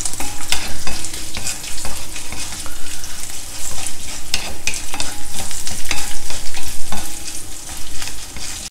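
Dals and spices stir-fried in a pan with curry leaves and a pinch of hing, giving a loud, steady sizzle with constant scraping and clatter from the stirring spoon, heard alone.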